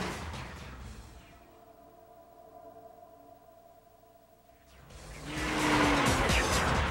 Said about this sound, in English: The Acura Integra, equipped with a race-proven 16-valve twin-cam engine.